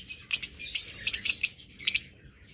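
Caged pet birds offered for sale chirp in quick bright bursts, clustered tweets repeating in several bunches over a faint low background hum.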